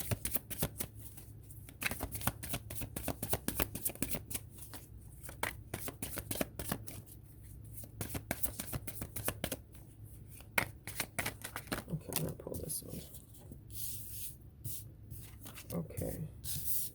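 Tarot cards are shuffled by hand in repeated crisp riffling bursts, close and fairly quiet, with a few softer pauses between rounds.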